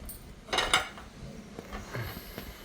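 A small pan set down on a lit kitchen stove, giving a couple of close metallic clanks and clinks in quick succession, followed by faint lighter knocks against a quiet room background.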